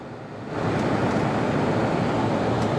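A steady, broadband whooshing hum kicks in after a moment and holds constant, an RV air conditioner running close by.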